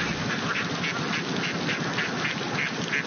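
A flock of ducks quacks while crossing a road among waiting motorcycle traffic, a continuous, close chorus of overlapping quacks in quick repeated bursts at a steady, fairly loud level.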